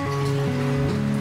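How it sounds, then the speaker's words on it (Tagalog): Heavy rain pours in a steady, dense wash, with a sustained tonal drone running beneath it throughout; no one speaks. "Ang lakas ng ulan ah"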